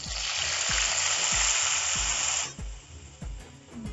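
Ground peanut and chilli paste hits hot ghee with cumin and bursts into a loud, hissing sizzle that eases after a couple of seconds. Rhythmic stirring knocks from a spoon in the pan run throughout.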